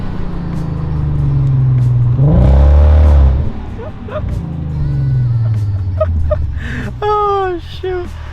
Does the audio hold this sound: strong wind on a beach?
no